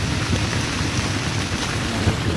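Rain falling on a shingle beach beside an extremely rough sea, a dense, steady hiss of drops mixed with low roaring surf, close and continuous without talk.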